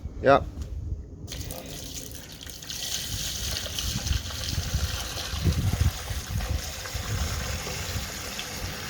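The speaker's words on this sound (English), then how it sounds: "let's flush test it." Water from a flush test runs steadily through newly replaced drain pipes, a continuous close trickling and splashing flow that lasts throughout, with a brief higher squeak at the start.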